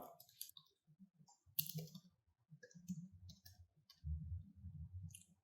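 Quiet, irregular keyboard clicks of a login and password being typed tap in short bursts, close and soft, with brief pauses between keystrokes.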